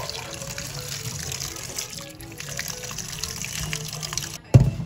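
Water spinach (kangkong) is rinsed under running tap water, a steady close splashing flow with small trickles, ending in a brief louder thump.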